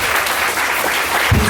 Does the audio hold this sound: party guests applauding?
yes